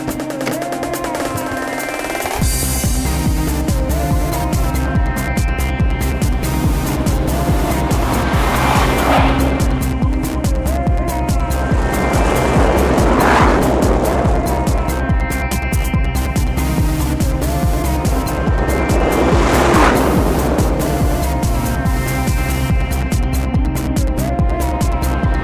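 A 2009 Nissan GT-R sports car drives past at speed, its engine a steady loud drone that swells into several close passes with rising and falling pitch over roughly twenty seconds, with brief tire noise and no talk.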